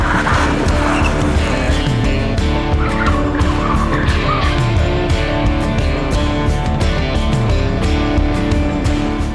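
A car slides with squealing, skidding tires during stunt driving practice, the loud, close engine roar and tire screech running continuously throughout.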